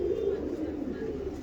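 Pigeon cooing in a soft low murmur, faint and steady, with indistinct talking mixed in nearby.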